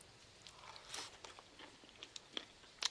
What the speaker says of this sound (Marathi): पहिली बाईट घेऊया.